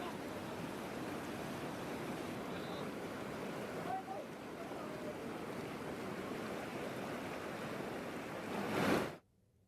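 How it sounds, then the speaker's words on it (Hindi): The Umngot river in Meghalaya, swollen by heavy rain, rushes with a strong flood current, a continuous loud roar of churning water that swells briefly before cutting off abruptly near the end. "तेज बहाव के साथ उमंगोट नदी बह रही है"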